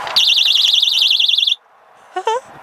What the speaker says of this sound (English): And we're gonna put a silent alarm in there.